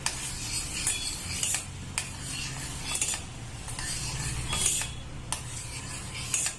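Wheat cake batter with butter mixed in a bowl, a steady scraping and swishing with a spoon marked by regular sharp clinks against the bowl rim, close and fairly loud.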